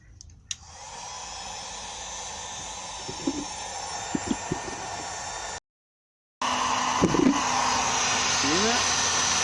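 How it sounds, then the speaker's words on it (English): Heat gun blowing hot air onto a car headlight lens, a steady close airflow roar that cuts out briefly and restarts, with faint muffled voice sounds underneath. "I want to see if with a heat gun I could fix this little situation here"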